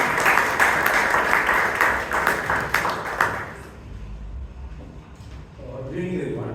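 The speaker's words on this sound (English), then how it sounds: "A big round of applause to Toastmaster Ravi." Audience applause at a Toastmasters club term-end meeting in Bangalore, a dense burst of clapping that fades out after about three seconds, followed by quiet room noise and faint talk.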